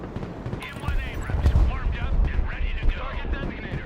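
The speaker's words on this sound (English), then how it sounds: "I have artillery hitting the road." Artillery fire in the Broken Arrow war game: heavy booms and rumbling impacts, several in a row, with shots crackling between them. Someone talks over most of it.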